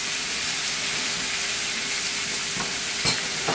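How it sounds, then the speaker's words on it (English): Steak and vegetables sizzling in olive oil in a hot pan, a steady dense hiss of frying with a few soft pops and clinks near the end. "we're gonna cook the steak until it's nice and toasted on the side"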